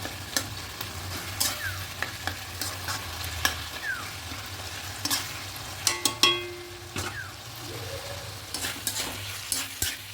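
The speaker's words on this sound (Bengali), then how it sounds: "এবার ঢাকা খোলা অবস্থাতে এটা খুব ভালো করে আর একটু ঘেটে দেবো সবজিগুলোকে" Bottle gourd with hilsa fish head cooking in an uncovered pan, a continuous sizzle under repeated spoon scrapes and knocks as the vegetables are stirred, close and moderately loud.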